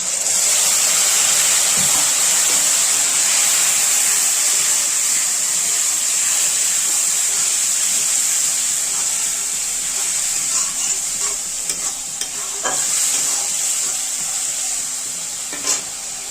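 A spice mix for katla fish curry goes into a hot kadai and fries with a loud, steady sizzling hiss, close up, sprinkled with small crackles and easing slightly toward the end.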